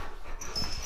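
A big dog whimpers and pants close by in a short, steady burst of soft whining at a ranch.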